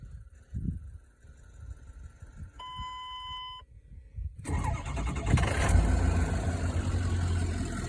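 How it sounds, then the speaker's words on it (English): A short electronic chime sounds, then a big ambulance engine cranks and roars to life nearby, settling into a loud, steady diesel rumble. "We'll fire up the engine."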